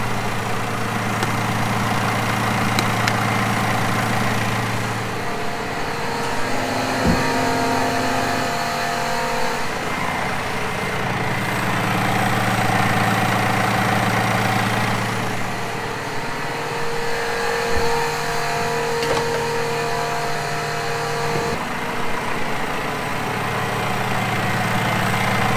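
A diesel farm tractor engine runs steadily throughout, a loud continuous low drone with shifting tones as the revs rise and fall a few times, with no talk over it.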